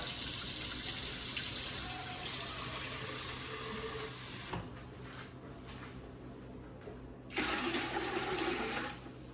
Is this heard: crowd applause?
no